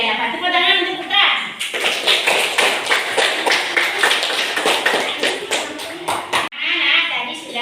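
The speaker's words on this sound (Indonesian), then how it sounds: "Tepuk tangan untuk Putra." Classroom applause for a pupil named Putra, a burst of many hands clapping over about five seconds, near and lively, framed by a teacher speaking before and after.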